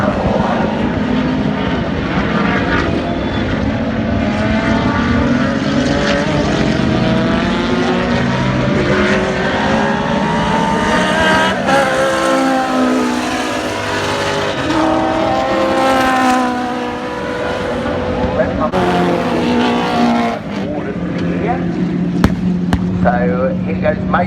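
A Chevrolet Camaro muscle car with a 5.7-litre V8 roars past at full throttle in a race, a loud sustained engine drone rising and falling in pitch, with a commentator talking over it throughout.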